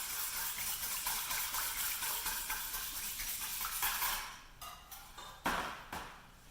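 Spoon stirring wine into cake batter in a bowl, a steady wet scraping and sloshing with soft clinks of metal on the bowl, close and continuous, then thinning into a few sharper knocks and taps at the end.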